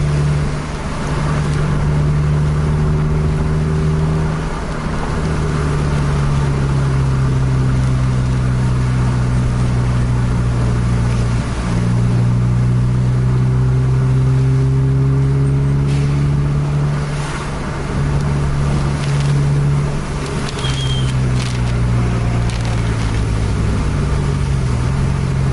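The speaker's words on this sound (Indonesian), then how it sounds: "Itu double deck udah overtake truk yang ada di depan." A double-decker bus engine drones loud and steady at night as the bus overtakes a truck, its pitch gradually rising and falling through gear changes, with continuous road rumble and no talk.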